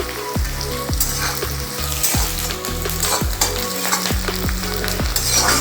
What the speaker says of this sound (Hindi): प्याज भून रही है